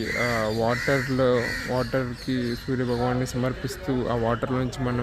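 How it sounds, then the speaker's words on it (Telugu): Crows caw repeatedly near a Surya temple at Nandanam, Chennai, their harsh calls coming in quick close bursts under someone talking continuously. "పక్షులు చేసే ఈ సౌండ్స్ కూడా"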